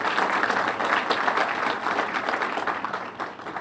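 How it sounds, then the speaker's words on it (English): A crowd in a room at a legislative breakfast applauds, a dense and steady round of clapping that holds for several seconds before tapering off slightly. "Just a round of applause for those organizations."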